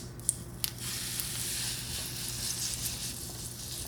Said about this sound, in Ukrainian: поперчила і починаю смажити